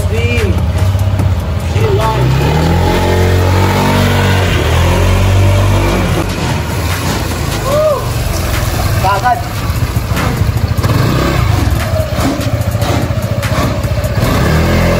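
A Honda PCX 160 scooter engine runs steadily and loudly after CVT cleaning, its low hum and some rising revs continuing throughout, mixed with workshop background noise.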